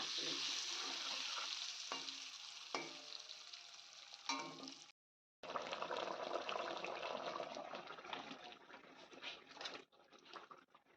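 Egg curry simmering and sizzling in a pan, a continuous frying hiss with occasional clinks and stirring scrapes, broken by a short silent gap partway through.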